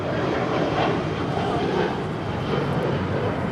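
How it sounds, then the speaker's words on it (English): A Sun Country Airlines Boeing 737-800 departs LAX, its jet engines producing a broad, loud roar that stays steady and close for a few seconds. "Sun Country Airlines 737-800 headed out to Chicago O'Hare."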